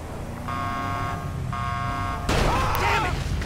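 Two steady car horn blasts in GTA V police-mod driving, each about a second long with a short gap, loud over engine rumble, followed by a sudden crash-like burst of noise.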